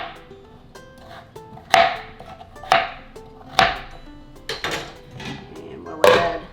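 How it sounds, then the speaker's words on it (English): Knife chopping butternut squash and potatoes into large cubes on a board, several sharp, close thuds at irregular intervals over a soft ringing background. "I'm going to slice up some butternut squash and some potatoes. And I'm going to make some fairly large cubes"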